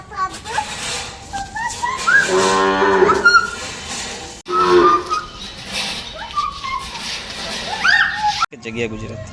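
A desi cow on a Gujarat dairy farm moos in several long, loud lowing calls, with voices and farmyard noise around it.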